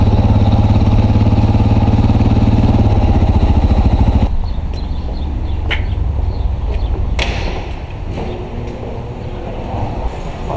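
A motorbike engine idles with a loud, steady harmonic drone, then shifts into a rougher, noisier running sound as the bike is ridden, with no talking.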